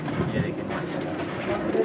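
Highflyer pigeons in a Lahore loft coo softly and steadily over a dense background murmur, while someone talks nearby.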